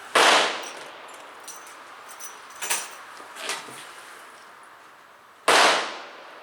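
Two sharp reports from a firearm at a shooting range firing hollow base pellets, one at the start and another near the end, with faint clinks and handling noises between them.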